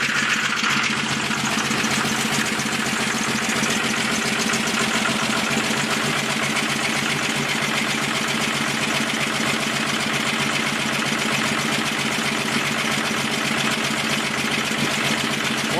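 A 1995 Dodge Ram 2500 with a Cummins 12-valve diesel idling roughly in 17°F cold, not running on all cylinders, a steady loud clattering rumble that continues unbroken throughout.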